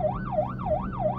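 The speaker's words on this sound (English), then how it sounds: "staying on the whale siren" A police car siren in the rising and falling 'whale' wail mode sweeps up and down about four times, loud and close, during emergency response driving.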